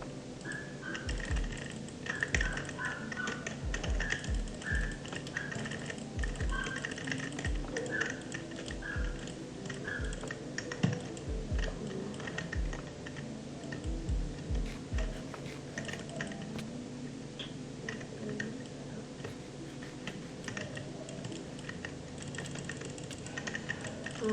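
Keys clatter rapidly and mouse buttons click during a Bedwars match, a dense, steady stream of taps heard up close, with game sounds and some speech underneath.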